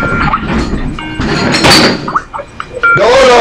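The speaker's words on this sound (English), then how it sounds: "Do not open that door again." A door slides and thunks open with scraping and knocking, loud and close, among household clatter and a voice in the room.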